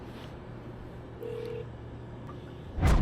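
A single short phone keypad tone sounds faintly inside a car over a steady low engine rumble before a call to a driving-service customer, followed by a sudden thump.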